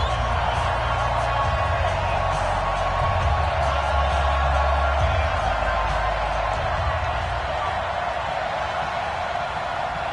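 Stadium crowd roars steadily in an EA Sports NFL video game ahead of a Colts versus Steelers matchup, a dense, continuous wash of cheering that stays loud for the whole stretch with no break.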